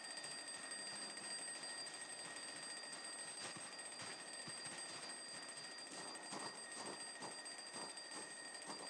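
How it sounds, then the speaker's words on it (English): An alarm clock rings continuously inside a house in a video game, a steady, faint electronic ringing that runs unbroken throughout, with scattered soft thuds and clicks of game sounds underneath. "There is an alarm clock going off in one of these houses."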